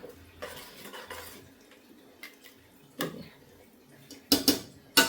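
Ginger-garlic masala frying in a pan, heard mostly as close metal spoon clinks and scrapes against the pan, with a few louder knocks toward the end.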